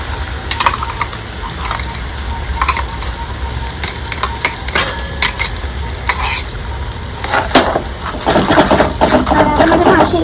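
Tomato paste stirred into a frying pan over ginger and chilli, a loud close sizzle with repeated scraping and clattering of the spoon, growing busier toward the end.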